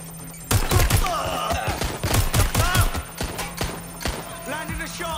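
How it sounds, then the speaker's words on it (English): Bursts of rapid automatic gunfire crackle in the Watch Dogs Legion video game on PS5, loud and close in repeated volleys that thin out toward the end amid other game effects. "They're shooting at us!"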